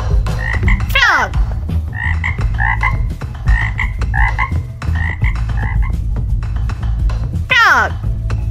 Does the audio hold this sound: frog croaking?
yes